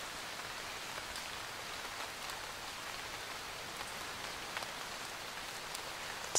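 Steady rain falling on a surface, a dense even patter of drops with occasional sharper individual hits, continuous and soft, with no voices.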